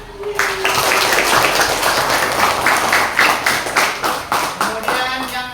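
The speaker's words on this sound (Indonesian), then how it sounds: "Coba tepuk tangan." A classroom group claps hands together, a loud burst of many overlapping claps that settles into a steady rhythmic beat, close and lively, with a brief voice near the start.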